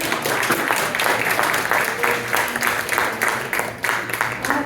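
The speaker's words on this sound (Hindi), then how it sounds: "ताली होनी चाहिए" A crowd at a World Hindi Day celebration claps steadily for several seconds, a lively burst of applause filling the room.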